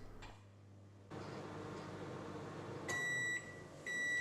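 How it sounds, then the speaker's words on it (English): A microwave oven melts butter, its steady hum running for several seconds before a couple of sharp electronic beeps sound close by near the end; no talking. "put it in a microwave-safe container and nuke it for around 30 to 40 seconds"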